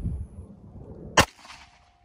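A single sharp 9mm pistol shot fired over a chronograph, loud and close, cracking out of low background rumble and followed by a brief ringing decay.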